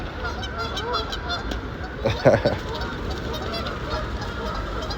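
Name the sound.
geese honking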